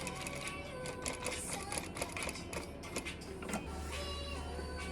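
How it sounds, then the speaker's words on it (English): A sewing machine stitches stretchy cushion fabric for a seat-bench cushion, a quiet, rapid mechanical whirring and clatter running continuously throughout, with a low hum at the end. "you're gonna start sewing about 1/4 inch to the side."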